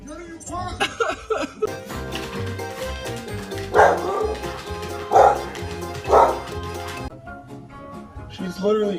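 A dog gives three short bow-wow barks, loud and close, spaced about a second apart over background music and voices.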